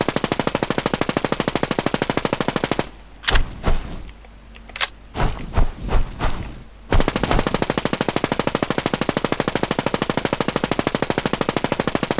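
Rapid automatic gunfire in the survival shooter Infestation The NewZ hammers away at a boss in a steady, loud stream, breaks off midway for a few scattered shots and thuds, then resumes its relentless rhythm.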